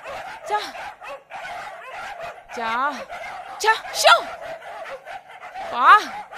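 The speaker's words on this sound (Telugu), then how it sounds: "రాత్రి నుంచి అరుస్తూనే ఉన్నాయి, నిద్ర కూడా పోనీయట్లే ఈ కుక్కలు పాడుగాను." Several street dogs barking, yipping and whimpering near a house at night, with rising and falling whines between sharp barks, loud and close, over a faint background.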